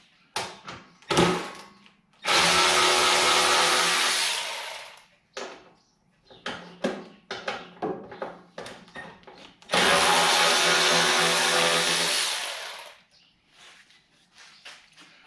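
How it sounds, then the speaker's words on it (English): A Milwaukee battery-powered ratchet spins out 10mm bolts on a snow blower, two long whirring runs of about three seconds each, separated by clicks, taps and handling noises at close range. "So I'm going to use my little battery operated ratchet."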